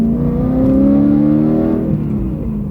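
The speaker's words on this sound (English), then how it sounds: "Exhaust sounds rowdy, which is awesome." A 4-liter V8 sports car engine revs loudly and steadily up close, its throaty, deep exhaust note rising slightly and then easing off, with no voices.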